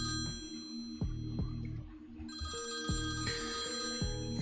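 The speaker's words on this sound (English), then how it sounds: "There's a phone ringing." A telephone rings in a video game, repeating at a steady rhythm over sustained tonal background music.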